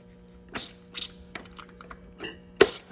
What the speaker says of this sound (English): Let's put the wrench on this.